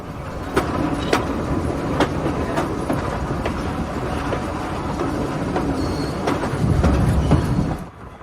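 A train runs along the Bhakra railway line between Punjab and Himachal Pradesh, a steady rolling rumble with rhythmic clickety-clack wheel knocks, growing heavier near the end before cutting off.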